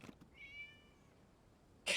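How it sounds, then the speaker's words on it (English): A cat in a video game gives a single soft, rising-falling meow in a quiet scene, faint and brief, followed by a short burst of another sound at the end. "It was just a cat."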